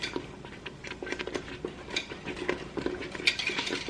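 A whisk scrapes and taps steadily through a thick mixture in a pot on the stove, a quiet, busy patter of small clinks and scrapes with no voices.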